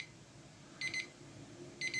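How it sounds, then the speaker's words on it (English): A KitchenAid kitchen timer alarm goes off in two short bursts of rapid high-pitched beeping, a second apart, close and fairly loud over a quiet background. "Let's see what the timer sounds like when the alarm goes off."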